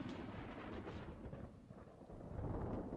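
Thunderstorm in the video game Creatures of Sonaria, a low continuous rumble of thunder over steady rain noise, moderately loud and sustained with no voices.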